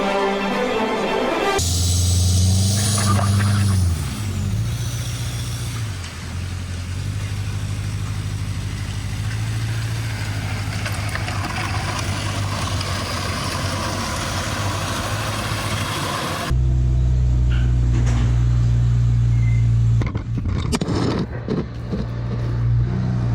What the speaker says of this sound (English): You guys never got hit by a snowmobile being carried by a forklift before?